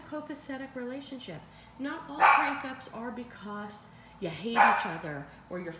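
Dogs bark in bursts, two loud sharp volleys over a person talking steadily nearby.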